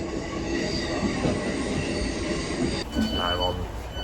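From inside a passenger train, a steady loud rumble of wheels on rail carries on throughout, with squealing tones from the wheels and a brief shift in pitch late on. There is no talk.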